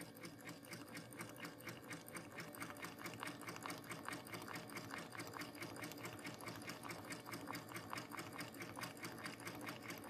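A sewing machine runs a satin stitch for reverse appliqué, giving a continuous, even, rapid needle clatter that is steady and close throughout, faintly recorded with no voices.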